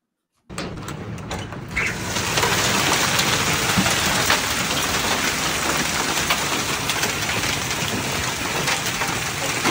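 A recording of a rain and hail storm plays back as a steady, loud wash of pounding precipitation that swells in after a brief silence and holds dense and even throughout.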